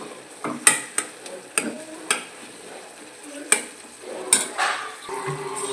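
Tomatoes for rasam are pressed and sautéed in a pan. A spoon clacks against the metal pan in sharp, irregular knocks under a soft, steady sizzle, with no talking.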